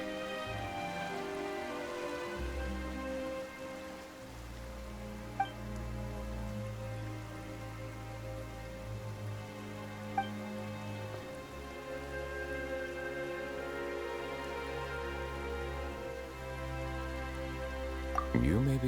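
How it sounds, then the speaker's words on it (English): Steady rain falling in Genshin Impact, a soft continuous patter over a low droning ambient music bed, with a few faint isolated drips or chimes and no voices. "Why is it raining all of a sudden?"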